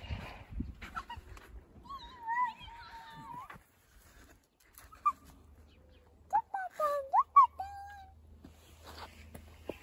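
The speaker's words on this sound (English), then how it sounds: "Silly cat." A house cat meows in two separate bouts of drawn-out, wavering cries, close and clear in an otherwise quiet room, with soft low sounds and faint voices in the background.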